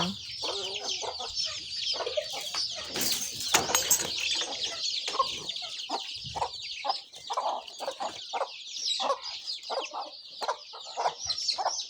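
Village chickens cluck busily while being fed, a continuous close chorus of overlapping clucks and calls with brief wing flaps, no talking.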